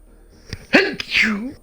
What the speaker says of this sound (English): Sometimes you sneeze or cough and you just can't catch it fast enough